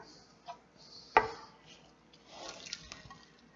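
Water squeezed from grated potatoes splashes and drips in short bursts, with one sharp wet slap near the start and a looser trickle of liquid afterward.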